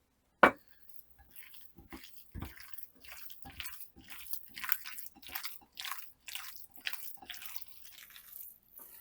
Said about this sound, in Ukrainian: Перекладаю фарш. Я брала свинояловичий, і все перемішую.